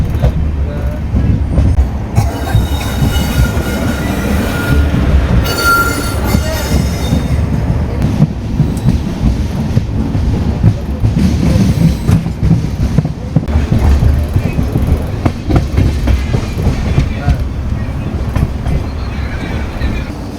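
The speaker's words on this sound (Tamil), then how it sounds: "ஏன்னா வந்து வண்டி அங்கே ஸ்பீடாக கிராஸ் ஆகிட்டு இருக்கு" Sengottai superfast express train passing at speed close by, a loud continuous rumble and rattle of wagons and wheels lasting throughout, with faint squeal.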